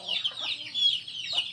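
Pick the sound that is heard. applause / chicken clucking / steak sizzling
chicken clucking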